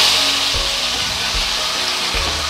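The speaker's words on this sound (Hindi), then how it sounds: "अब मैं यहाँ पर ये मैरिनेट किया हुआ चिकन इसमें डाल दूँगी" Marinated chicken fries in a hot pan with cumin seeds, giving a loud, steady, close sizzle with a few soft low thumps as pieces settle.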